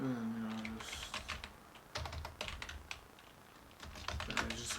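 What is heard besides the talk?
typing on a computer keyboard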